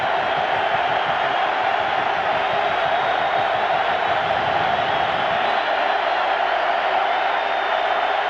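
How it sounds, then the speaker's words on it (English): Roaring stadium crowd at a college football game between West Virginia and Virginia Tech, a dense, loud, continuous wall of cheering and yelling that holds steady throughout. "to quiet the crowd, because right now the Hokies are feeding off of this atmosphere"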